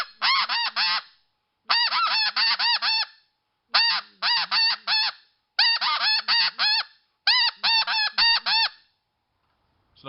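Snow goose calls blown on a RedBone Snowbuzzerd goose call: six loud, close bursts of rapid, scratchy honks, each burst a quick run of four to six notes separated by short silences, with no talking.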